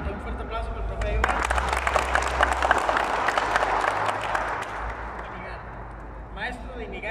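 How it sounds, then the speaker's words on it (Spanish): Audience at a Filipino martial arts workshop applauds Professor Eibar Hernández, a burst of dense clapping swelling and then fading away, with a voice speaking at the end. "Un fuerte aplauso para el profe Eibar."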